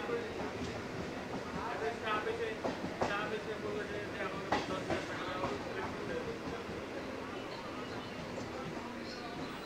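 A local train pulls out of platform 2 on the Bibadibagh–Sealdah line, a steady low rumble with scattered clacks and rattles heard from on board, amid faint voices.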